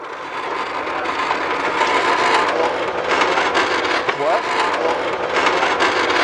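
A new bicycle tire rubbing against the frame while riding, a loud continuous gritty scraping hiss that stays steady throughout, with a voice speaking over it.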